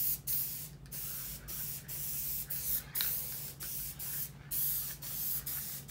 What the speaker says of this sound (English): So I'm just going to spray both surfaces.